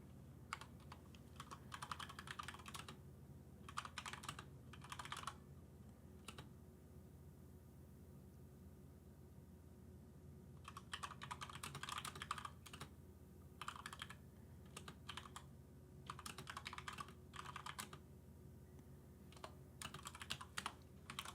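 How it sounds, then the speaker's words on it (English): Someone types on a computer keyboard in a quiet room. Bursts of rapid, close key clicks are separated by silent pauses of several seconds, with no voices. "I started like not even typing in sentences. I'm just typing vibe words."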